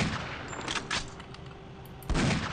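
Rapid bursts of gunfire in the video game Shogo: Mobile Armor Division, a dense run of shots followed by a louder blast near the end, no talking.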